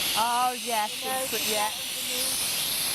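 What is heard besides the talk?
Polti 2-in-1 steam mop hissing steam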